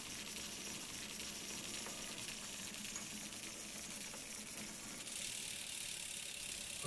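Shifting on a bicycle with a Shimano GRX 810 rear derailleur and an 11-42 cassette, heard as a steady close mechanical whir of chain and gears running without a break.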